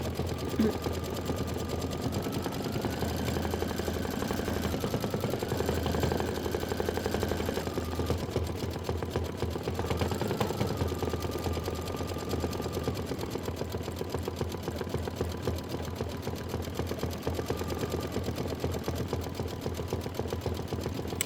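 A computerized embroidery machine stitches out a quilt block applique, humming with a rapid, even needle rhythm that runs steadily throughout, with a voice speaking now and then.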